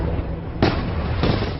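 Two sharp green firecracker bangs about half a second apart, heard at a distance over a low rumbling background during Diwali.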